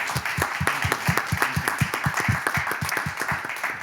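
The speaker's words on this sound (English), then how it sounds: "Could I have one more round of applause, please, for our speaker and moderator?" An audience at a conference panel session applauds a speaker and moderator, a steady round of dense clapping throughout with no talk over it.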